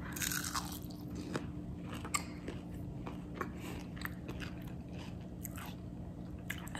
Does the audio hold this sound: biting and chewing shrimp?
yes